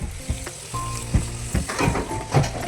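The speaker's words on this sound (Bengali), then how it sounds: "লুচি ভাজা চলছে," Luchi deep-frying in hot oil for a holiday puja meal, a soft crackling sizzle with bubbling bursts and a few clinks of a utensil, close and moderately quiet.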